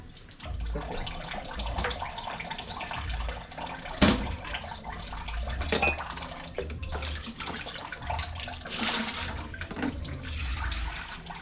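Water runs steadily from a kitchen tap in a home, a continuous close rushing and splashing that holds for about eleven seconds with no voices over it.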